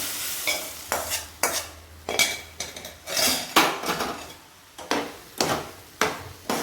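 Okra being stirred into gravy in a pan: repeated close scraping strokes of a utensil against the metal, in uneven bursts with short pauses, over a faint sizzle and no voices.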